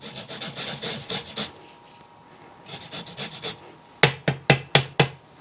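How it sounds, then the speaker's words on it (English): Fresh ginger is rubbed back and forth against a microplane in a soft, steady rasping rhythm, then a few sharp, separate taps of the grater against a surface ring out close at the end. "I'm just going to take my microplane and I'm going to grate, like I said, about a tablespoon of fresh ginger"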